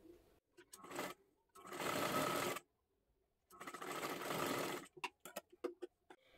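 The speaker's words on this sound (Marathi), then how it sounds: "हे ही बाजू इथे ठेवून घ्या आणि पूर्ण खालीपर्यंत शिलाई मारून घ्यायची आहे" A sewing machine stitches a loop strip for a four-tuck blouse in short bursts: a brief run, a longer steady whir, a pause, another long run, then quick stop-start taps, fairly faint and close.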